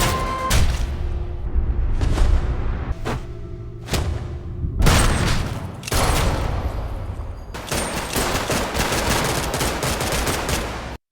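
Film gunfight with loud bursts of automatic gunfire and single shots, several separate volleys in quick succession ending in a long sustained fusillade, with no voices.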